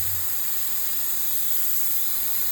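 Steam jet hissing onto bed bugs during a bed bug treatment: a steady, unbroken, bright hiss lasting the whole moment, close and even in level, with no talking.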